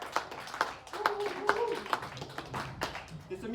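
A small audience at a spoken word poetry event claps in scattered, uneven hand claps, a few close and sharp, while a voice talks briefly alongside.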